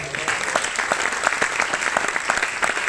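A concert audience at a piano recital applauds in a civic centre hall, with individual claps distinct and rhythmic near the front over a steady crowd wash, and a voice briefly audible.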